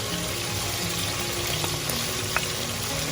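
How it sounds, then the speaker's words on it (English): Steady crackling sizzle of potatoes frying in hot oil with turmeric, constant and close, with occasional sharper pops and no voices. "it's going to sputter a lot more"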